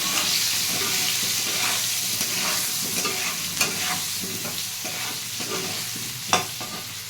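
Potatoes frying in oil with salt and turmeric, stirred in the pan: a close, steady sizzle broken by the scrape and clatter of a spatula against the metal.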